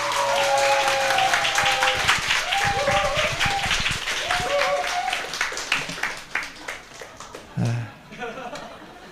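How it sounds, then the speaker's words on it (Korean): An audience at a Korean church summer Bible school claps for an incoming speaker, with applause rising and then thinning into scattered claps as voices talk over it and a few last claps fade out. "큰 박수 부탁드립니다"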